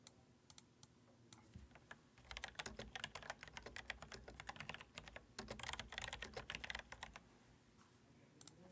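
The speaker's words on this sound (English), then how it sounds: "Let me see if I can move my mic away from the keyboard so you don't hear the clicking so much" Computer keyboard typing close to a microphone during a live night-sky stream, with bursts of rapid, irregular clicks, some sparse and some dense, fairly faint and with no talking.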